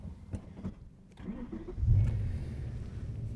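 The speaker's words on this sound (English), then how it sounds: "we'll just do a quick ignition off, back on, wait for the starter to engage" A BMW S85 V10 being started with the ignition cycled: starter whirring briefly, then the engine catching with a deep, loud rumble that settles into a steady idle, close by in a workshop.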